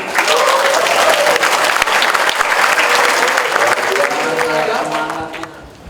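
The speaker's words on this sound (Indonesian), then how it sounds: "Tepuk tangan." Loud, dense applause from an assembly of cadets at a polytechnic briefing, a sustained crowd of clapping hands that holds steady for several seconds before tapering off at the end.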